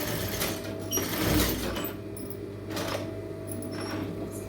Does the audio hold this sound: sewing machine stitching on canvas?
yes